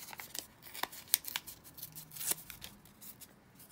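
Paper being torn and handled while making a junk journal, a handful of sharp ripping and crinkling bursts scattered between quiet pauses, close and fairly faint, with no talking.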